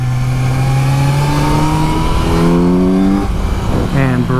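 Kawasaki Z900 motorcycle at full throttle, a loud close engine howl climbing in pitch through successive gears, then a sharp rev blip near the end.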